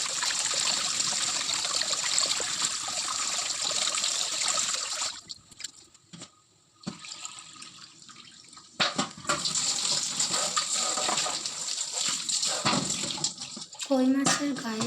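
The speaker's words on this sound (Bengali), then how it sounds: "পরিষ্কার করে ধুয়ে নেব।" Koi fish rinsed under running water, a steady splashing stream that briefly stops midway before flowing again, with faint voices in the background.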